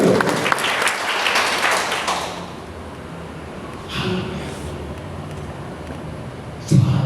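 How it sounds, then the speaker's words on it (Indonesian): A church congregation at a Sunday service bursts into applause. The loud clapping fills the first couple of seconds and then drops away to a quiet room, with a few faint stray sounds. "Dan berikan tepuk tangan yang meriah."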